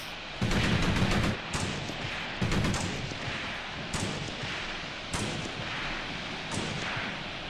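Repeated bursts of gunfire in the tactical war game Graviteam Tactics, rounds thudding into dirt in heavy, rolling volleys with several loud onsets and a sustained rumble between them, no talking.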